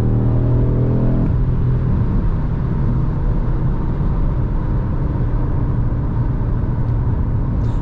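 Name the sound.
Audi RS3 five-cylinder sedan accelerating hard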